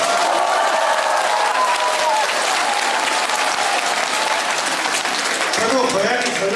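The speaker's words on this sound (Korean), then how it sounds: "박수 한번 주시죠" A large political rally audience applauds loudly and continuously, dense clapping filling the whole stretch, with a voice rising briefly over the crowd near the end.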